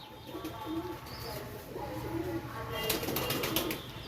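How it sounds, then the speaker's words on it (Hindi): Soft, low pigeon cooing repeats in a continuous murmur, with brief wing flutters and faint chirps against steady background noise. "जो मेल है वो गुटक रहा है"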